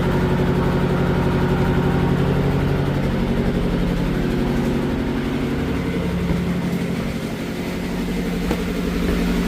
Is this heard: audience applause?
no